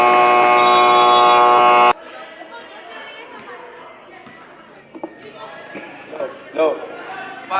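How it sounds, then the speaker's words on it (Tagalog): A loud, flat electronic buzzer blares for about two seconds at a local basketball game in Mariveles, Bataan, then cuts off to crowd chatter and scattered shouts from the court. "Wait for the buzzer."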